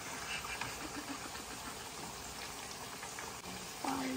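Food frying in a pan in a home kitchen, giving a steady close crackle and sizzle at low level that runs throughout.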